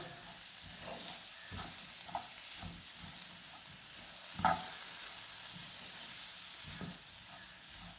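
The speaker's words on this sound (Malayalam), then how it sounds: "ഇത് നമുക്കൊന്ന് എല്ലാം ഒന്ന് മിക്സ് ചെയ്യാം" Mango pickle mixture with fennel seeds is stirred in a pan over a soft, continuous sizzle. Periodic gentle scrapes of the spoon come through, with one slightly louder stroke midway.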